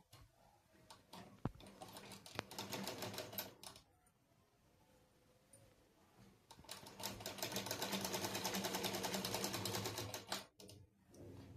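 A sewing machine stitches a blouse in two rapid, rhythmic runs separated by a short pause, close and fairly quiet.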